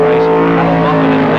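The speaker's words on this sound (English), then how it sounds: "Harvey in the Torana, and past him on the inside is Geoghegan and the Falcon to take over second place." Early-1970s improved production touring cars, a Holden Torana and a Ford Falcon GTHO, racing at Warwick Farm, roar loudly and continuously as they pass close by, engine drone filling the whole brief moment.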